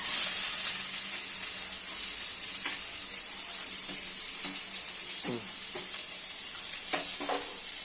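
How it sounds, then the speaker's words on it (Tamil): Finely chopped onions go into hot oil with popped mustard seeds and fry with a steady, loud sizzle. A spoon stirs them, giving occasional scraping knocks. "வெட்டி வச்ச வெங்காயத்தை போடணும் மக்களே"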